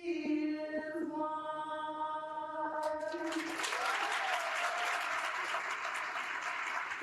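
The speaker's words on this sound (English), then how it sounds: "Y'all not clapping loud enough for Mahogany Chisholm." Audience applause at an awards banquet swells up after a sung anthem ends, a steady broad clapping that fills the room and continues evenly, somewhat distant.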